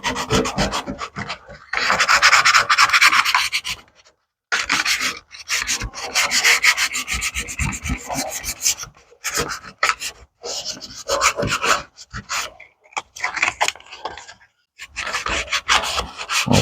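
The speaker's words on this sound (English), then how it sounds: "give this a little sanding." Sandpaper scrubs by hand across the painted metal of a drum smoker in rhythmic back-and-forth strokes, close and loud, with brief pauses between bursts of rubbing.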